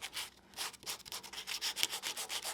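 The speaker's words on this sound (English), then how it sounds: "I'm just taking some of my sanding pads and worked it in" Rhythmic back-and-forth rasping of sanding pads worked over wood, close and fairly quiet, each stroke a soft hissing scrub repeating at a quick, even pace with no talking.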